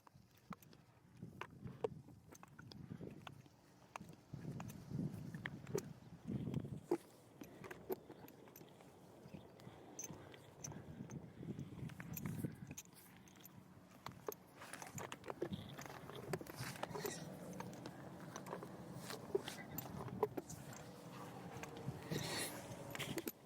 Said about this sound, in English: So he's chewing on that bit pretty good